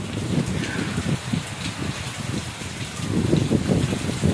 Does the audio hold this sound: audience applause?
no